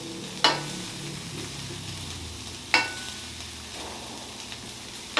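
Ground beef sizzling in a frying pan, a low steady hiss punctuated by three sharp clatters of a utensil against the pan, close and without talk.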